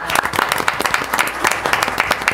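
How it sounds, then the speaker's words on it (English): Applause breaks out at a school district board meeting in honor of a newly formed PTA board, a steady, dense patter of many hands clapping at moderate volume throughout. "we ought to give these people a big round of applause"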